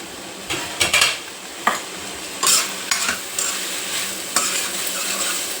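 Chopped tomato pieces cook in a pan, with loud metal spatula scrapes and clanks against the pan over a soft steady sizzle, several sharp knocks spaced unevenly.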